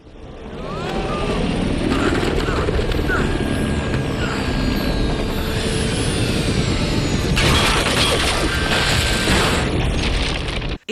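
A helicopter crashing onto a boat in the video game Uncharted: a sustained, dense roar of rumbling, metallic grinding and crashing debris runs loud and unbroken for about ten seconds, swelling again toward the end.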